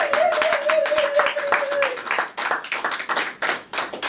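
A church congregation claps to acclaim the Lord, with fast, crowded hand claps forming a dense, lively burst. A brief sung or called tone rides over the start, and voices mix in.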